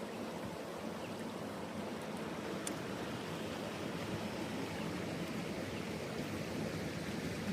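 Creek water flows steadily at Whiskey Creek, a continuous soft broadband rush with no voices.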